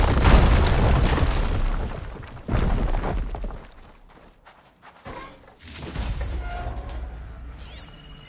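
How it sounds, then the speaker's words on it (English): A fire gleam being destroyed with the igniter in Horizon Forbidden West: a loud burst and rumbling blast, followed by quieter crackling debris, then a second, softer swell of noise. "Now that I have the igniter, I can get rid of that fire gleam."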